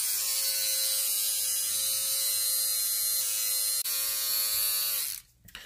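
An electric beard trimmer with a 0.5 mm comb trims a beard, giving a loud, steady high buzzing hum for about five seconds, close up, before cutting off abruptly, with no talk.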